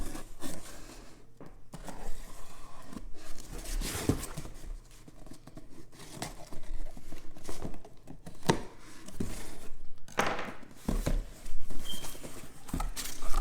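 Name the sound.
cutting open a hat box with a kitchen knife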